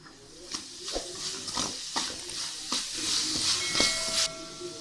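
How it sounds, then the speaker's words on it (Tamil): Spoon stirring turmeric and spice masala in a hot pan for prawn curry, with repeated scraping strokes over a soft sizzle and hiss, no talk. "மஞ்சள் தூள் ஒரு 1/4 ஸ்பூன் போட்டுட்டு நல்லா மிக்ஸ் பண்ணுங்க"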